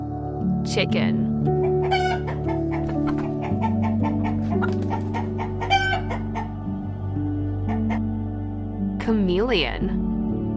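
Chickens cluck repeatedly in short rhythmic bursts close by, mixed with a rooster-like crow near the end, over a steady low background tone.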